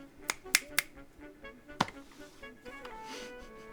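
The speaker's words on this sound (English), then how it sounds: "Someone snap your fingers." Several sharp finger snaps crack out, three in quick succession and then another a moment later, crisp and fairly close, over a quiet background with faint musical tones.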